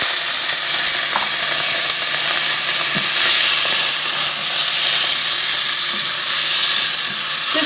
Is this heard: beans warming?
yes